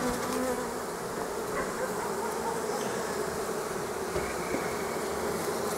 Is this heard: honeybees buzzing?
yes